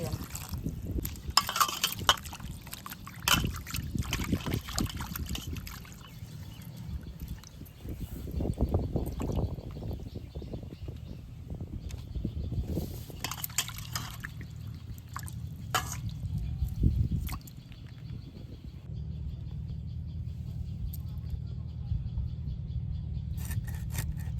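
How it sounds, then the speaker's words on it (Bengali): Hilsa fish are washed by hand in water, with splashing, dripping and sloshing in irregular bursts that come and go over a low background hum. "এবার মাছগুলো ভালো করে ধুয়ে নেব"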